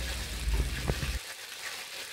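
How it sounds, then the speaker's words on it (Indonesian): Raw peanuts, washed and drained, frying in hot oil in a pan for batagor: a steady broadband sizzle, fairly loud and close at first, then dropping to a quieter hiss partway through, with no talk. "kacang tanah kita goreng ya teman-teman dengan minyak panas"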